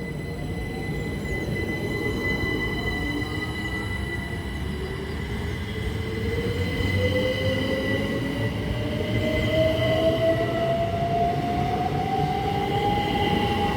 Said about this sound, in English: the 1058 Great Western Railway service from London Paddington to Didcot Parkway